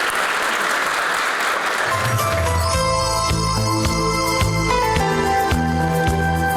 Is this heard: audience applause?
yes